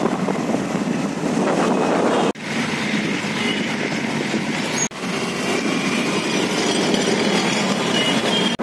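A metro train runs alongside a moving scooter on a road where the line climbs from underground to an elevated track, giving a loud, continuous rumbling roar mixed with wind buffeting, interrupted by two brief dropouts.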